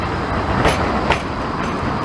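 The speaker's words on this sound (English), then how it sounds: "There goes the tram." A Blackpool tram runs past along the street, a loud, close rolling rumble and hiss with brief bright squeals from the wheels or overhead line, heard alone with no voices.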